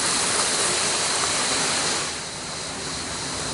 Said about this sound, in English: All fresh water coming from the mountain. Basically runs through the restaurant.